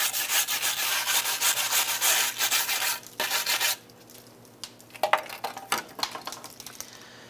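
Vigorous scraping of rust scale off a 2003-2012 Chevy Colorado front brake backing plate, rapid rasping strokes for about four seconds, then quieter, scattered scrapes and taps.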